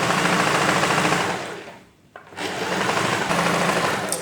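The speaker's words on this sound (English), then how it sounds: "And now I'll start sewing that." A sewing machine runs at speed stitching darts on a blouse, a dense continuous mechanical rattle that pauses briefly midway before resuming, loud and close with no talking.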